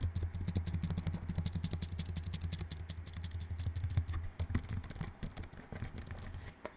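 Repeated presses of the space bar on a Logitech K470 low-profile keyboard give a fast, even run of soft, rattly clicks close to the microphone. The taps grow sparser and more uneven toward the end, with no talking.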